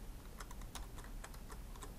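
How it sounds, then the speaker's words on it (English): Quick keystrokes on a computer keyboard while entering an Excel formula, roughly a dozen light, fast clicks in an uneven burst, faint and close over a low background hum. "start typing the word average"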